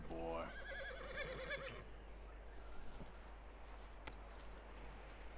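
A horse whinnies briefly at the start in the video game Red Dead Redemption 2, a high wavering neigh, followed by quiet ambient noise with a few faint soft thuds.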